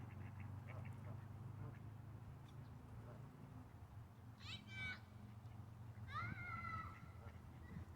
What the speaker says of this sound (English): You ever get that close to geese and mallards?